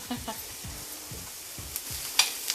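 Onions sauté quietly in a pan with a soft sizzle, while a spatula scrapes and pushes them around in a slow rhythm of light strokes.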